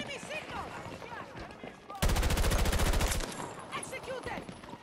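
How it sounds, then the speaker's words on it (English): Rapid automatic gunfire from the shooter game Battlefield 2042 rattles in one loud, dense burst of about a second, with quieter scattered game sounds and background noise before and after. "It takes so many shots to kill somebody"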